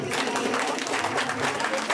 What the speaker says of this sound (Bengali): ওদের জন্য একটা জোরে তালি